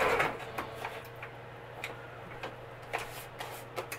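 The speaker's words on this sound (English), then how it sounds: "I don't have a way to get my camera right now to my sewing machine. So you'll just have to listen to me sew it." A sewing machine stitches a pocket onto a project, giving faint, irregular mechanical ticks and taps at a moderate distance over a steady low hum, with no one talking.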